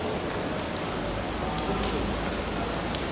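Steady rain falling on a street in Osaka, Japan, a dense, even hiss of drops on pavement filling the whole stretch close by, with no voices over it.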